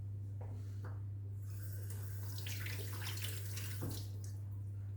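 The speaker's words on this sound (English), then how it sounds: "you should go and wash the lemon, of course, because I will use the skin" Tap water runs over a lemon being washed in a kitchen, a steady faint stream with soft splashing and handling noises over a constant low electrical hum.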